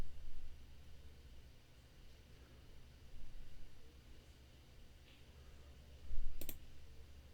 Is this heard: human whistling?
no